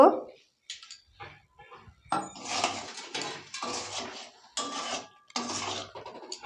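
Spoon scraping and knocking in a pot of rohu fish curry being stirred, a series of clattering metallic strokes and bursts, fairly close, with gaps between them.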